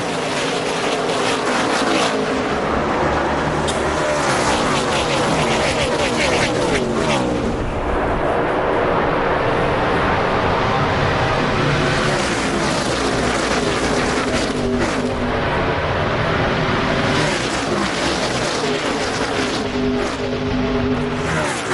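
NASCAR Nationwide Series stock cars race at Daytona in the 2011 DRIVE4COPD 300, a loud dense roar of engines sweeping past continuously, with pitch shifting as the pack passes.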